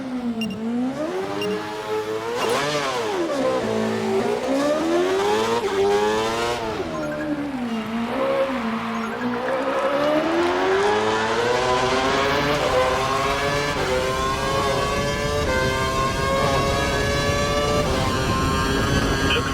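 A Formula 1 car in the F1 2012 racing game screams out of a hairpin corner, its high-pitched engine revving up and down through gear changes before climbing in one long, loud, continuous acceleration.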